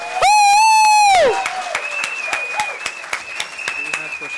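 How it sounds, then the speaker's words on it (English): Applause and cheering from an audience at a presentation event, opening with a long sustained cheer or whoop, then scattered clapping with further vocal shouts. "We require a huge round of applause for him again."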